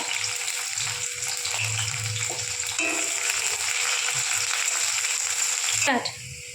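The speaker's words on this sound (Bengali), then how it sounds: "এবার ফোড়নে দিয়ে দেবো শুকনো লঙ্কা, একটু 5 ফোড়ন আর আগে থেকে কেটে রাখা পেঁয়াজ একটু ভেজে নেব তেলে।" Sliced onions with dried red chillies and panch phoron sizzle steadily in hot oil in a pan, a loud continuous hiss that runs throughout and is cut by a sharp clatter near the end.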